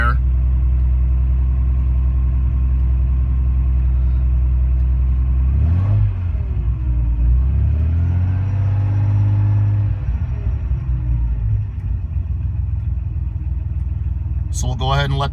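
A 1970 Fiat Dino idling after a cold start, a loud steady low rumble with a brief rev and settling back to idle midway, heard close up under a talking voice.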